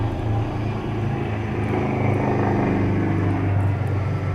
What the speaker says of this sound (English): That was an aeroplane.